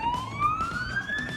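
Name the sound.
police car siren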